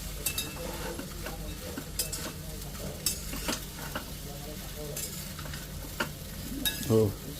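Masala sabudana khichdi is stirred in a pan with a spoon, giving repeated soft scrapes and clinks over a low, quiet sizzle, with a brief louder knock near the end.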